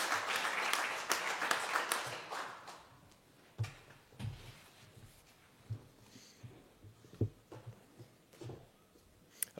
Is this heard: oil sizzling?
no